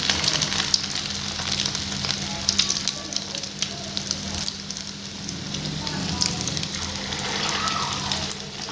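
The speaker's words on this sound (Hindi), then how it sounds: "मीडियम टू लो फ्लेम पे हमें इसे फ्राई करना है।" Egg-coated potato fingers deep frying in hot oil over a medium-to-low flame, giving a steady, close crackling sizzle with scattered pops throughout, no words spoken.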